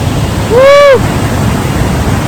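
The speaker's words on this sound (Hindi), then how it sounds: "waterfall" Steady rushing roar of Durbin Tilla Punji Waterfall along Lumding Road in Assam, heard up close, with a brief whistle-like tone rising and falling over it.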